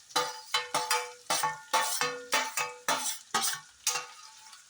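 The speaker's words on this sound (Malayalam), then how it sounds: "സവോള അരിഞ്ഞിട്ട് കൊടുത്തു. കൂടെ തന്നെ പച്ചമുളകും കൂടെ ചേർത്ത് ഇട്ട് കൊടുക്കുക" Chopped onion and green chilies for payar thoran cooking in a pan, stirred with a run of rhythmic metallic scrapes and ringing clinks of the spoon over a faint sizzle.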